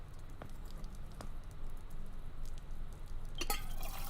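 Water drips inside the video game The Silent Age, a few sparse, soft plinks spaced out over a faint, steady background hush.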